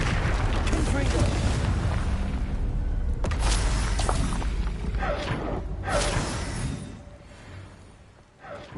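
Spell blasts in Hogwarts Legacy: booming, whooshing magical explosions with crackling bursts, loud and close, overlapping a voice speaking in the foreground.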